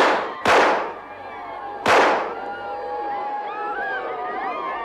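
Pistol gunshots as a sound effect, two sharp loud reports about a second and a half apart, each followed by a ringing, echoing decay over a low background rumble.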